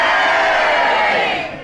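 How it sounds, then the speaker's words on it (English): A studio audience at a BBC Radio 4 comedy panel game boos together, a loud, sustained crowd roar that holds steady and then trails off at the end. "And if you think he was incorrect, will you all boo?"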